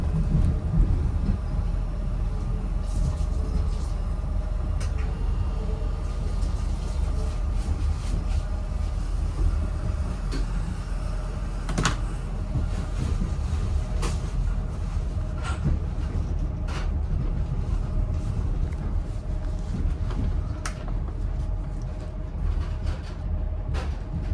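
An Avanti West Coast Class 805 train running on the Stafford to Holyhead line, heard from inside as a steady low rumble with faint rail clicks, continuous and even.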